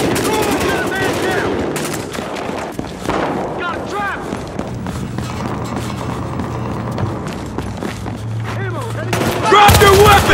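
Gunfire in the police shooter Battlefield Hardline on PS4 during a downtown match, sustained rapid shots and bursts layered with game music and effects, loud and continuous with voices mixed in throughout.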